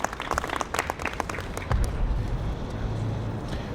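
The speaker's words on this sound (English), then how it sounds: "let's give her a round of applause" Applause from an audience at a New York City arts education report event, a burst of dense clapping that fades into a murmuring room with some low rumble and shuffling.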